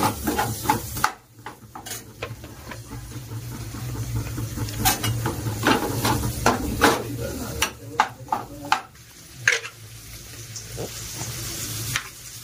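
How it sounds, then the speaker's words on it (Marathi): Two large onions fry in a pan with a steady sizzle, broken by scraping stirs and occasional clinks of a utensil against the pan. "तर आपण कांदा फ्राय करून घेणार आहे।"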